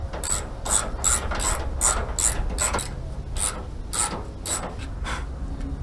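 Close, loud ratchet strap clicks in quick bursts of several pawl clicks as a mount is cinched down, with short pauses between pulls and no talking.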